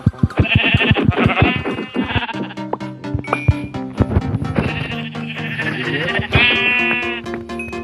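Sheep in the video game Minecraft bleating repeatedly, loud close baa calls in quick succession over clicking game sounds and other tonal effects.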